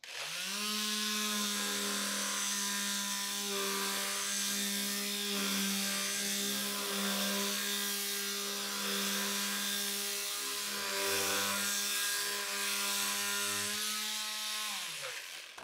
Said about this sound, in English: I also have my sander here today with a 220 grit on it